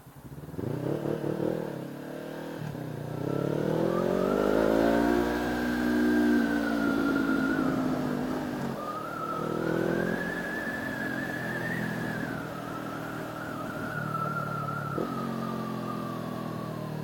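A Honda CB500F motorcycle engine revs up and down on the road in several rising and falling swells, with a close, mid-pitched droning tone throughout.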